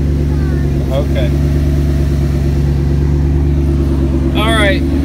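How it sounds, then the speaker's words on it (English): A car engine runs steadily throughout at a constant idle-like hum, fairly loud and close, with a couple of brief voices over it. "We got the car running."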